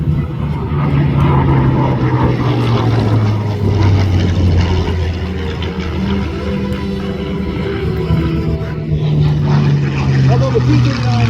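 A Bell P-63 Kingcobra warbird taxis at an airshow, its supercharged engine turning a four-bladed propeller in a steady, loud, droning hum, with a voice talking over it throughout.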